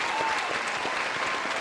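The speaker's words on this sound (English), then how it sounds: "let's have a round of applause for the amazing guests we've had on today." A talk show's studio audience applauds the show's guests, giving a short burst of even, sustained clapping that fills the room at moderate loudness.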